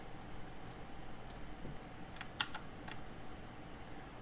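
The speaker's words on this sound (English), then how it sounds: "Now, when I hit things like Control and Shift, I'm not going to get a key response from that because I'm doing key typed." A computer keyboard is typed on, including presses of the Control and Shift keys, giving scattered light clicks at an irregular pace over a quiet background hiss; no voices.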